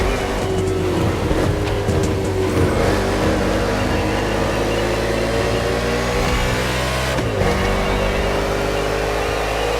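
Engines of race cars in The Crew Motorfest's NASCAR event on an urban Honolulu street circuit in Hawaii, a loud continuous roar with rising revs and gear shifts, steady and close throughout.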